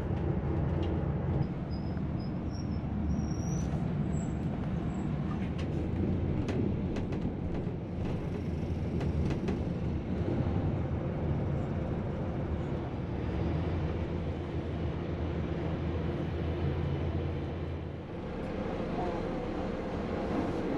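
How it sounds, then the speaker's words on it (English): A big coach drives onto a ferry on the Belfast to Glasgow crossing, giving a steady low rumble of engine and vehicle deck noise that runs throughout with little change. "driving a big coach onto a ferry is some sight and it takes a lot of skill from our driver"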